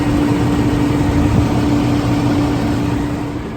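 A 2008 GMC C8500 dump truck with a 7.8-liter Duramax turbo diesel idles close by, a steady low rumble with a constant hum running evenly throughout and easing off slightly toward the end.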